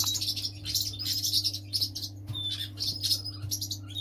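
Fledgling canaries in an aviary give rapid, high, bright chirps and short tweets in bursts, fairly close, over a low steady hum.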